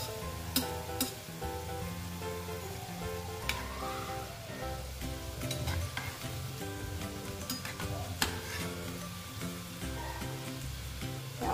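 Modak dumplings deep-frying in hot oil, a faint continuous bubbling sizzle with scattered pops and light spoon clinks, no talk.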